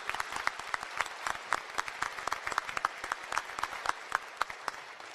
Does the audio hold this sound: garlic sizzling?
no